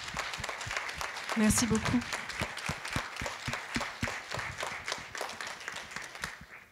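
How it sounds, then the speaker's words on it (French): Audience applause after a lecture, a crowd clapping steadily throughout with individual claps audible, while a speaker talks over it briefly. "nous allons remercier Camille et Rodic et nous allons l'applaudir"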